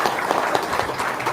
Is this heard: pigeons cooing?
no